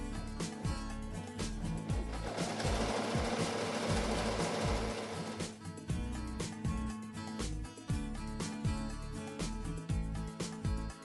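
A multi-needle embroidery machine stitches a design with a fast, close, rhythmic mechanical clatter, steady throughout apart from a brief busier stretch in the middle.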